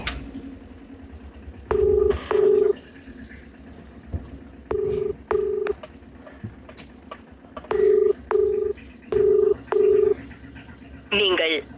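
A phone call to a customer rings out over a mobile phone, with a repeating double-pulse ringback tone in regular pairs against a faint background hum, with no talking.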